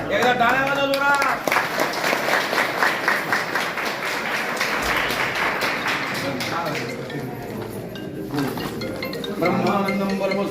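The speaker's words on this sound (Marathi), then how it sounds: "एकदा टाळ्या वाजवा जोरात" A crowd at a religious jayanti festival gathering claps together, a dense rhythmic patter of many hands in a hall, heard alongside voices and chanting that rise around it.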